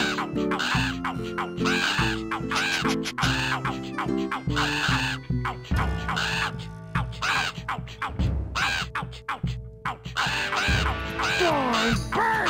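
Crows cawing in The Grinch video game: repeated harsh caws in a dense, busy mix, loud and persistent across the stretch, layered over other game sounds without clear talk.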